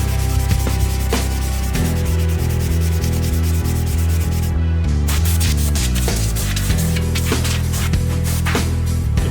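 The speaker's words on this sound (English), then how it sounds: "I'm going over it now with 800 grit sandpaper." Steady, loud rubbing of 800 grit sandpaper over a Bondo-filled Jason mask, a continuous scratchy rasp with rhythmic back-and-forth strokes and no talking.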